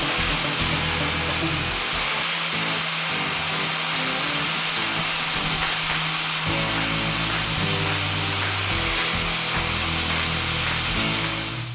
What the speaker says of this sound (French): on repasse à la meuleuse.